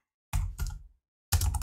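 Keys clatter on a computer keyboard as a command is typed, with a quick burst of clicks, a short pause, a second burst, then silence before another dense cluster of keystrokes, all close and fairly quiet.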